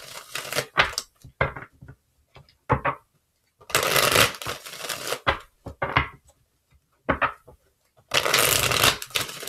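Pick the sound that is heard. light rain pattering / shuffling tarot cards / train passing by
shuffling tarot cards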